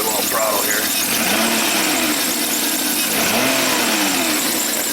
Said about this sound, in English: I don't know if you guys can hear that misfire or not.